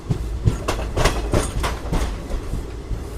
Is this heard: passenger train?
yes